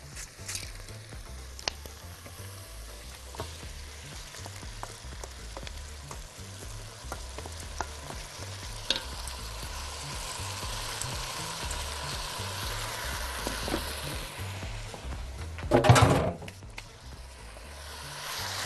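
Rice tipped into a pot of hot, flavoured oil and stirred while it fries for Egyptian-style red rice, a steady close sizzle with scraping stir strokes and a brief louder burst near the end, no talking.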